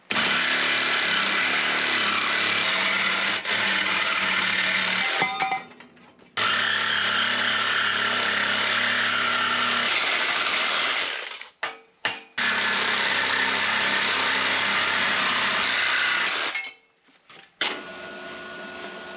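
A power tool cuts the metal body of a 1957 Chevy Bel Air four-door hardtop. The loud, steady, whining cut runs close by, stops briefly a few times, and then starts again.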